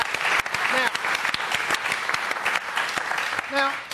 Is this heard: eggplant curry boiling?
no